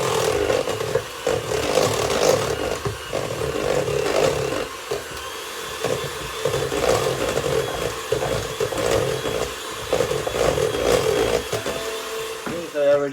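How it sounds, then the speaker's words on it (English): An electric mixer whisks cake roll batter in a kitchen, whirring in uneven bursts and pulses that rise and dip as the beaters work through the mix. "whisking until I get it smooth"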